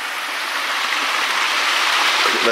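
Water rushes steadily at a creek crossing on a high-altitude hiking trail, a close, loud, continuous broadband flow with no pauses and no talking.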